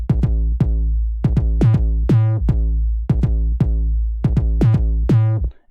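Deep, booming 808 trap kick drums made from a sine wave with saturation, compression and overdrive hit in a steady beat pattern, some notes sliding down in pitch, each with a distorted, sustained low tail.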